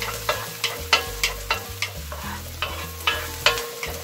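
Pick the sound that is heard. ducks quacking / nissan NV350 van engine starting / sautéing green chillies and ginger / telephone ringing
sautéing green chillies and ginger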